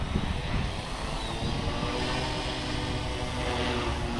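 An SAB Goblin 380 KSE RC helicopter flies at a steady cruising rotor speed on its maiden flight, giving a loud, continuous whirring drone that holds level throughout.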